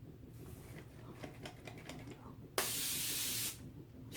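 Australian Gold instant sunless spray tanner sprays in one steady hissing burst of about a second, following quieter rustling and handling noises in a shower.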